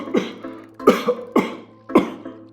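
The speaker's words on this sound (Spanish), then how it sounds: "Toser means cough." Four harsh coughs in a row, evenly spaced and close, each a short rough burst with a brief gap between.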